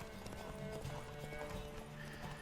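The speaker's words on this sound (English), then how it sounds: "Don't spare the horse!" Horse hooves clip-clopping at a gallop in the Witcher 3: Wild Hunt video game, steady rhythmic beats with an occasional neigh, alongside game music and ambience.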